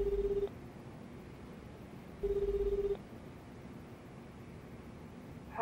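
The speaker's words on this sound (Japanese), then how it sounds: "電話しています。" Telephone dialing in the video game Lost Judgment: two bursts of electronic dial tone, each under a second long and separated by a pause, loud against a quiet background with a faint hiss.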